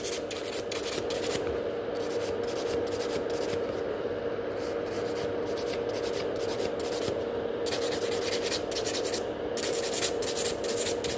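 Filing fiber gel product on lifting salon nails, close and continuous scratchy rasping strokes with brief pauses between bursts, no talk.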